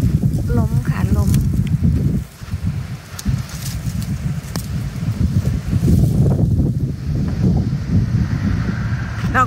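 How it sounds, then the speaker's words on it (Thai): Strong wind blows hard and constantly across the microphone outdoors in a garden of bamboo shoots, a loud, rumbling buffet with rustling, as someone talks through it. "ลมแรงมาก"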